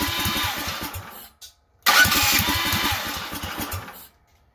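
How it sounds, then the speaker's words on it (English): A DuroMax 440cc engine with an upgraded jet cranks on its electric starter with the choke fully closed. Two bursts of rapid, pulsing cranking come close and loud, split by a short silence, then it cuts out. "Electric start, take 3 at fully closed choke"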